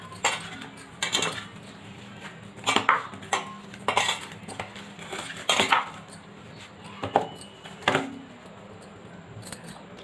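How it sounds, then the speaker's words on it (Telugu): Chili paste, chili powder and oil being mixed by hand into a chicken batter in a bowl, heard as a series of irregular clinks and scrapes of utensil against the dish, close and without talk. "ఇప్పుడు వేసుకొని బాగా మిక్స్ చేసుకోవాలి"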